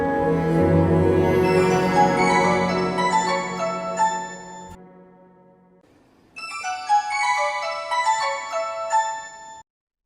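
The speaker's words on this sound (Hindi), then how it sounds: "किसका फोन हो सकता है?" A phone ringtone plays a bright electronic melody of rapid tonal notes, first loud and full, then fading to near silence before a second phrase of the tune starts up again and cuts off abruptly.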